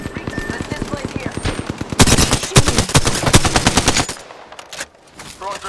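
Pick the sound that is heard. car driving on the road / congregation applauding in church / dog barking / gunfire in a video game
gunfire in a video game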